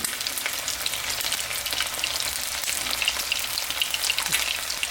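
Eggs frying in a pan at breakfast give a steady, dense sizzle with fine crackling pops, close and continuous throughout with no talking.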